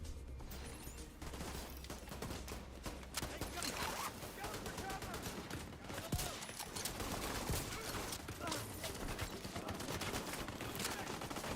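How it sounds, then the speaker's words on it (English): Heavy gunner enemy in The Division 2 unloading a machine gun in sustained, dense bursts amid a chaotic firefight, with overlapping gunfire and explosions filling the scene and a player voice talking faintly beneath. "I hate that heavy gunner. He's just wailing on me in the back."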